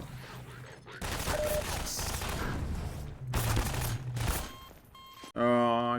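Rapid automatic gunfire in the first-person shooter Half-Life 2, sustained bursts of shots with brief pauses between them, loud and close, ending in a sharp louder blast near the end.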